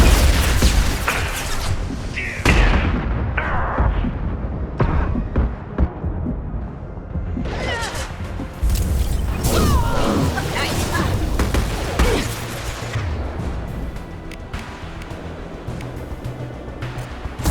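Gunfire in the video game Mass Effect 2, a series of sharp loud shot bursts and impacts over a busy combat din, with voices speaking at points.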